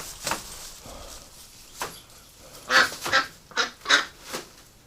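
A pet duck being settled into a new home in winter gives a series of quacks, a few spaced out at first and then a cluster of four or five loud, close calls, with no one talking.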